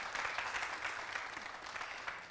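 Studio audience applause on a lively TV entertainment show, a steady wash of many hands clapping for a couple of seconds, fairly faint and distant.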